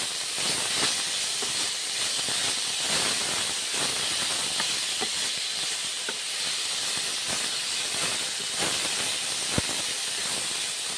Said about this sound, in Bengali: সেদ্ধ করা করলাগুলো ছেড়ে দিলাম কড়াইয়ে তারপর ভেজে নিচ্ছি